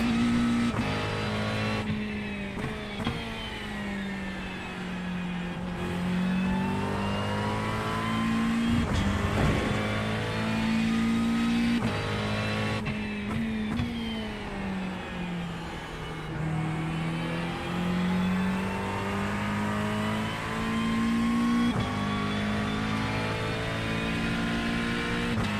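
A McLaren GT race car in a racing video game at Watkins Glen, its engine loud and close, climbing through the revs and dropping with each gear change, with occasional tire squeal throughout.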